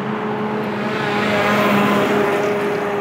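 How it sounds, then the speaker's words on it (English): A truck rolls past on a Los Angeles street, a loud close engine drone with a steady tonal hum that swells slightly in the middle, with no talk. "As a truck passes by"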